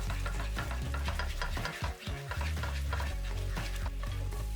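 A sauce of soy sauce, mirin, vinegar and corn syrup is stirred in a hot pan, giving rapid scraping and sizzling strokes with a brief pause midway, close and alone.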